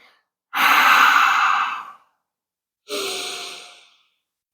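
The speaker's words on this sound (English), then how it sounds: "Let's take a few more cycles of breath in through our nose, out through our nose." Two slow breaths drawn in and let out through the nose during a beginner yoga sun salutation, the first long and full, the second shorter, each close and clear with silence between.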